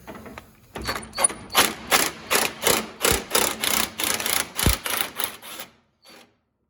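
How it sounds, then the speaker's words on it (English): An electric ratchet spins off a 19mm nut on a John Deere lawn tractor while its gas tank is installed: a close series of about a dozen evenly spaced mechanical whirring bursts, then a brief final buzz. "that nut is a 19mm. I'm gonna use the electric ratchet"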